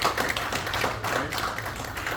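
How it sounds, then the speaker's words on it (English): An audience applauds a young man at an event with dense, steady clapping that stays loud and continuous for the whole stretch, with no voices over it. "Let's give this young brother another round of applause."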